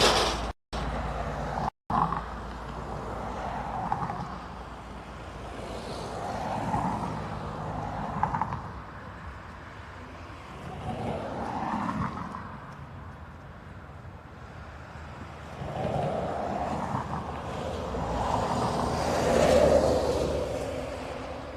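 Ryanair jet bound for Girona, registration 9HQCL, rolling for takeoff at Dublin Airport; a broad, swelling engine roar builds and surges in waves over about twenty seconds, heard from a distance.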